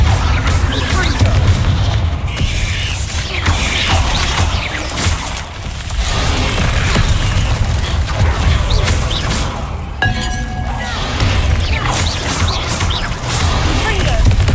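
Repeated fiery blasting-spell explosions in a Harry Potter video game boom and crash in a dense, continuous barrage of combat impacts, loud and close, with a voice calling out over them.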